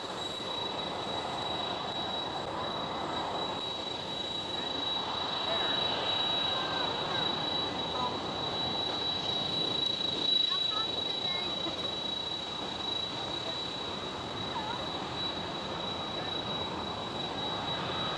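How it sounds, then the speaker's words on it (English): A TAROM Boeing 737 in retro livery takes off at Schiphol airport in Amsterdam, producing a sustained broadband engine roar that swells midway and then eases, with a steady high whine and a voice talking over it. "TAROM 737 with a retro livery taking off right now"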